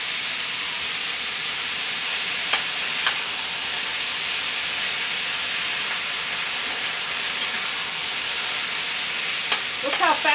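Food for a skillet lasagna fries in olive oil in a Griswold No. 9 cast iron skillet: a loud, steady sizzle with a few faint clicks, and no talking.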